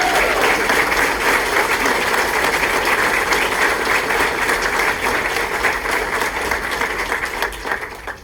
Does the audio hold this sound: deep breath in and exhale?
no